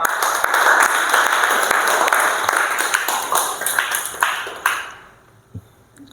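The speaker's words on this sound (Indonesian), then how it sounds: "Tepuk tangan dulu." A classroom of students claps together in a brief round of applause with loose, scattered hand strikes, steady and fairly close before fading out into near quiet, with a last stray clap.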